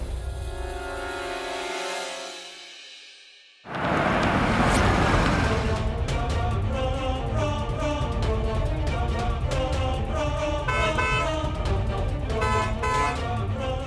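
A car horn blares in long sustained honks over busy traffic noise, loud and close, following a stretch of tonal background sound, in a Hindi TV drama.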